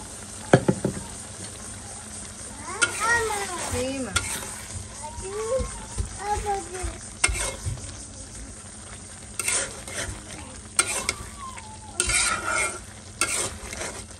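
Food being stirred and fried in a pan after cumin powder is added, soft sizzling with intermittent scraping and clinks of a utensil, fairly close, with occasional faint voices.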